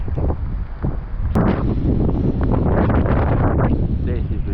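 Strong wind gusting outdoors at a fishing spot, heavy rumbling buffeting that roars against the microphone throughout, with a voice partly audible beneath it.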